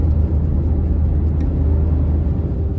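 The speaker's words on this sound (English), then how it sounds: "The van I'm driving is a Volkswagen camper van from 1986" A 1986 Volkswagen camper van drives out of Oslo, heard from inside as a steady low engine drone and road rumble, continuous and moderately loud with no talk.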